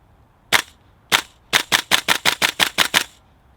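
Tokyo Marui M4 MWS gas blowback airsoft rifle running on propane and firing BBs, with two spaced single shots followed by a rapid string of about nine sharp snapping reports, close and loud.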